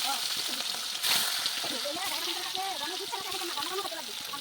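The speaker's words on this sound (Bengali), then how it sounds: "একদিকে মাছ ভাজা বসিয়ে দিলাম আরেকদিকে দেখো আলু দিয়ে দিলাম" Fish and potatoes fry in hot oil in separate pans, a steady close sizzle with bubbling crackles running throughout, while a person talks over it.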